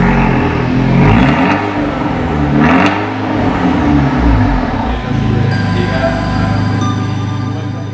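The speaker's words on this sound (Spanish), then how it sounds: "Tiene un atractivo sonido de motor, gracias al escape de cuádruple salida" An Abarth 124 Spider roadster with a quad-outlet exhaust revs up and down, its engine note rising and falling in loud swells, then settling into a steady idle with a faint whine over it.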